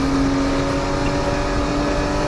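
A Porsche 934 Turbo RSR race car engine in the RaceRoom video game roars loud and steady, a continuous high-revving drone with no talking over it.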